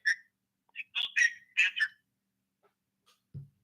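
A telephone rings in short bursts of electronic tone, several rings clustered close together with brief gaps, fairly clear and near, followed by silence and a faint thump at the end.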